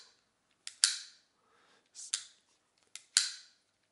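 Spring-loaded punch of a Thunder Punch He-Man collector figure from Masters of the Universe Origins, firing three times: each a sharp plastic snap with a brief clattering tail, separated by short pauses and close to the ear.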